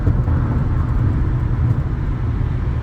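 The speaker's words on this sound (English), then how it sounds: "And that car with the twin turbo is coming up pretty fast." A twin-turbo car closes in fast on a road, its engine and tyre roar forming a loud, continuous rumble that fills the whole stretch with no voices.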